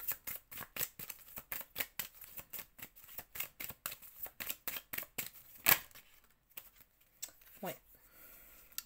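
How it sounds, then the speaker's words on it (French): Tarot cards being handled during a reading: a quick, steady run of crisp, close papery flicks and snaps for about six seconds, then a sharper slap and a few scattered softer rustles. "Je vais prendre encore une carte"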